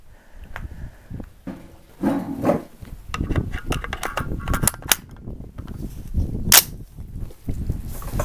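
A 6.5 Grendel AR rifle with a muzzle compensator fires Hornady 120gr ELD-M rounds at a shooting range. Several sharp, fairly distant reports are spread irregularly among quieter clatter and handling noise.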